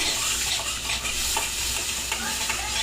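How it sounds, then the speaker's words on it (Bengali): Butter melting in a pan gives a steady, close broadband sizzle with faint scraping stir sounds, no voices. "ভালো করে মেল্ট করে নিচ্ছি ওটাকে সুন্দরভাবে"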